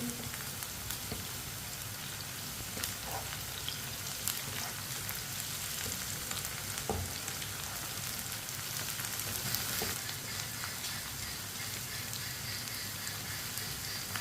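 Green chilies, a mild variety, frying in oil in a pan while bhindi fry is made, giving a steady, even sizzle throughout with faint crackles and a few soft stirring taps, no voices.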